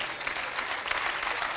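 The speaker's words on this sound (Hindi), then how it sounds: "तालियां थोड़ी बजाई भाई साहब," Audience at a Hindi kavi sammelan poetry event claps in a dense, continuous burst of applause, fairly close and steady throughout the short moment.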